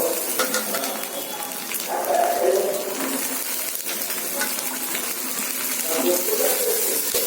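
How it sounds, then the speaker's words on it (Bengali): Soaked and washed kabuli chickpeas being strained into a pan, with a steady wet clatter of the chickpeas and a run of water throughout, close and fairly loud, and no talk. "এবার কাবলি ছোলাগুলো আমার ধুয়ে রাখা আছে, এখান থেকে ছেঁকে ছেঁকে দিয়ে দেবো।"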